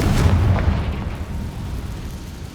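A Confringo blasting spell bursts in Hogwarts Legacy with a heavy close boom that rolls into a rumbling, crackling tail and slowly fades.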